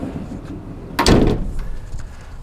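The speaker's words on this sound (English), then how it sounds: "We'll get a view through the slider door." The sliding side door of a 2022 Mercedes-Benz Sprinter cargo van rolls along its track with a single loud, close rumbling slide lasting about half a second, followed by quieter rattling.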